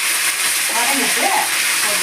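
Pirandai for pickle sautés with urad dal in a pan, giving a loud, dense, continuous sizzle up close with soft stirring scrapes underneath.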